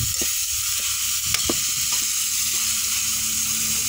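Bamboo shoots sauté in a hot pan, giving a steady close sizzle broken by a few sharp scraping stirs of a utensil. No one speaks.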